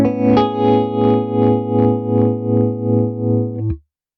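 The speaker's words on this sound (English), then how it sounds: "Now let's engage the tremolo pedal. And with the current settings, it sounds like this." A guitar played through a Morgan Amps Suite amplifier with a tremolo pedal engaged sustains a chord whose volume pulses in a steady, regular throb about twice a second, loud and close, then cuts off abruptly.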